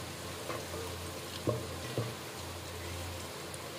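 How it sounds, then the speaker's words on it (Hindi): Cumin seeds and cloves frying in a pan, a steady low sizzle close by with a few sharp taps and clinks of stirring scattered through it. "थोड़ा भून लेंगे"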